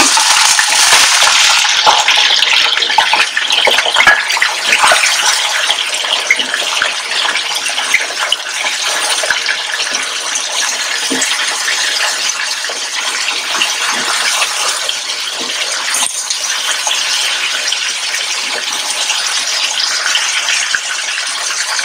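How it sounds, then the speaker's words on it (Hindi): Meat dropped into a hot pot for chicken biryani and frying, a loud hissing sizzle that starts strong and settles into a steady crackling fry, continuing alone without speech. "अब ये देखिए मैं आप गोश्त डालने लगी हूँ।"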